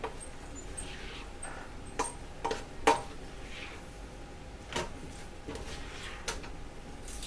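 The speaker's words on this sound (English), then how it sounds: "Alright, just a quick little stir." A spoon or spatula makes a quick stir through chicken fried rice ingredients in a pan, producing a few scattered, faint clinks and scrapes over a quiet background.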